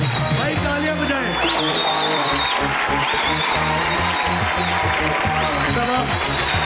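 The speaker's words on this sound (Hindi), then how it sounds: "भाई तालियां बजाएं।" Sustained applause from a television game show studio audience, a steady wash of clapping over loud music as guests come on stage, with a voice briefly heard.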